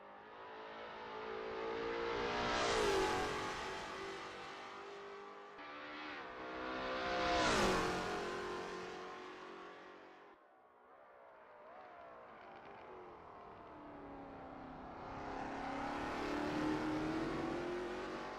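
A Lola T70 MkII Spyder race car on a practice out lap at Road America, passing by twice with rising then falling engine roar, then accelerating hard through the gears, loud and alone.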